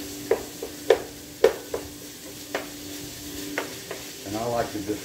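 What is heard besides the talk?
stirring and chopping meat frying in a pan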